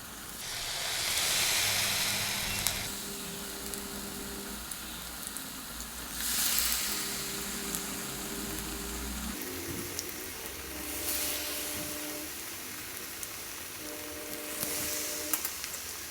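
Food frying in oil over a medium flame, a steady sizzle and hiss with swelling bursts, plus faint tonal hums in the background.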